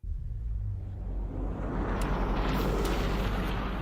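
Dense, booming rumble that builds into heavy bursts of blasts and gunfire-like cracks, loud and continuous with a cinematic wash, from a dark fantasy video game trailer with guns shown at Summer Game Fest 2022.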